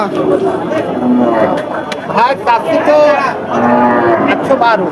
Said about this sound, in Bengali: এই যে গরুটা দর্শক আপনারা দেখতে পাচ্ছেন